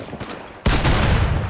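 Fortnite gunfire starts suddenly partway through: a loud, dense volley of rapid shots that keeps going to the end over a faint low background.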